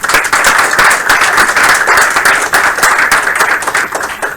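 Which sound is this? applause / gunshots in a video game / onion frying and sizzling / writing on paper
applause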